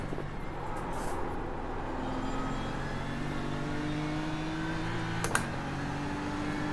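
A GT3 race car engine at full throttle in iRacing on the Nürburgring Gesamtstrecke drones steadily and loudly, its pitch slowly climbing, with a brief sharp click near the end.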